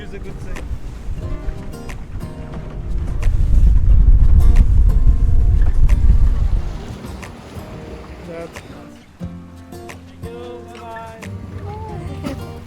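A boat moves across open water, its rushing wash and wind swelling loudly in the middle before easing, with people's voices coming and going over the top.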